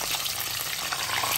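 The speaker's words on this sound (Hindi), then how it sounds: "हाई फ्लेम पे थोड़ी देर के लिए टमाटर फ्राई कर लें" Chopped tomatoes fry over a high flame in a pan for a curried aubergine dish, giving a dense, constant hiss of sizzling oil, close and even throughout, with no one talking.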